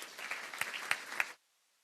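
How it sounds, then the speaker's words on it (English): Applause for schools at a school governing board meeting, a short burst of steady clapping with a few sharper claps standing out, cutting off abruptly into silence. "A round of applause for all of our schools."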